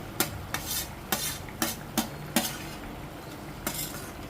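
Grated paneer is stirred in a hot pan, with a spatula scraping and clinking against the metal in quick separate strokes over a soft frying hiss. The strokes come about every half second, then pause near the end.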